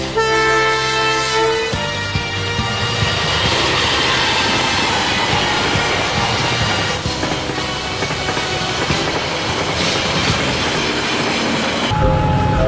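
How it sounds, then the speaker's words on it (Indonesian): A CC201 diesel locomotive in classic cream and green livery passing near Yogyakarta, opening with a loud horn blast, then a steady heavy rumble of engine and wheels rolling close by without a break. "Saya juga cukup beruntung bisa melihat lokomotif CC20191 saat keluar dari Baleasa Yogyakarta di tanggal 22 September 2022."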